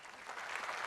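An audience at a comedy show applauding, with a brief, faint burst of clapping that swells slightly over less than a second.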